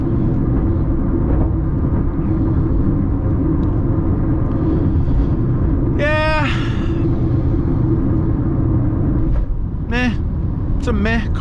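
A 2023 Honda HR-V small SUV cruises at around 44 mph, a steady low road and engine rumble under continuous talk, with a few brief high chirping tones.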